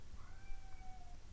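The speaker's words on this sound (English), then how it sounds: "a creature crying in the background, that's my cat" A house cat cries in the background with a single drawn-out, faint meow over low room noise.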